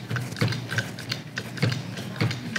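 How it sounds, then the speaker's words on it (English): A hydraulic crimper compresses a lug onto a battery cable for a solar installation, giving a steady series of close mechanical clicks and ratcheting pumps at a regular rhythm with no talk. "this hydraulic crimper is nice because it doesn't require a whole lot of strength"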